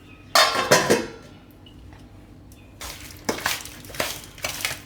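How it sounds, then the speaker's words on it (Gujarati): A spoon scrapes and clinks against a bowl while sugar is mixed into sweet mango pickle masala, with a few sharp metallic bursts separated by quiet pauses. "તો આ રીતે ખાંડ બધી મિક્સ કરી લેવાની."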